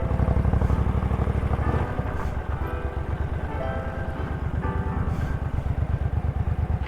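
A motorbike rides along a road, its engine thrumming steadily and close with a rough, pulsing drone and slight shifts in pitch, and no one speaking.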